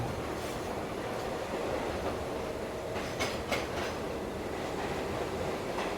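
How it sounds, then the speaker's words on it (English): A train rumbles past close by, its wheels clattering over the rails in a steady rush, with a couple of sharper clanks partway through. "another train was about to pass"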